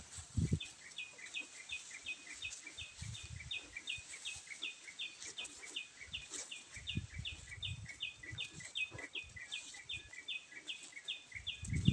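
Birds chirp in rapid, continuous repeated notes at a moderate distance over an organic rice farm during harvest, with low thumps and rustling underneath.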